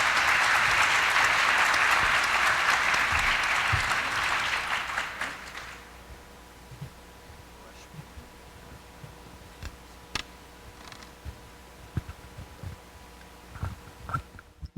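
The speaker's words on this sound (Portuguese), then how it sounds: "Vamos receber o nosso palestrante Fabiano Todeschini com uma salva de palmas." A conference audience gives a round of applause to welcome a CEO speaker, with dense, loud clapping for about five seconds that tapers into scattered claps, taps and quiet room noise.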